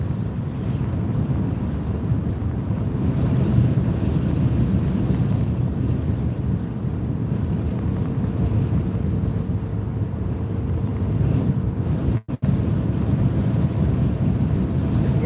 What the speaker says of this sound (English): Windy as crap.